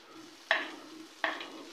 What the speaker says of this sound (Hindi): इसके अंदर हम अदरक और लहसुन का पेस्ट डाल देते हैं।